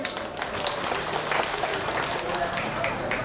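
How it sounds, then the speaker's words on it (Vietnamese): An audience at the 2024 Thánh sinh festival at Lôi Động communal house in Vietnam claps, a fairly loud, continuous patter of many hands mixed with voices. "Xin quý vị cho một tràng pháo tay chúc mừng."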